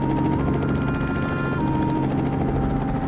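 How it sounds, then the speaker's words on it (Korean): A helicopter in a video game as a character boards it: loud, steady rotor chop with fast regular blade thumps over a droning engine whine, close and continuous throughout. "코이나타는 유유히 헬기에 탑승합니다"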